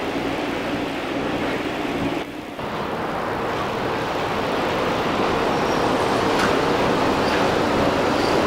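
An electric train with eight electric motors, one per pair of drive wheels across four cars on about 700 volts, runs with a loud, steady broadband roar and rumble that dips briefly, then builds slightly, with no talk.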